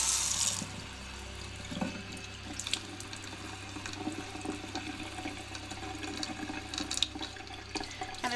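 Warm water runs steadily from a kitchen sink faucet, a constant soft hiss and splash that is fairly quiet, with a few small clinks and bumps over it.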